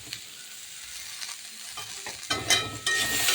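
A spoon stirs salt and turmeric into mashed banana peel being cooked with garlic and nigella seeds. Soft scraping and scattered clicks build into louder, denser stirring near the end.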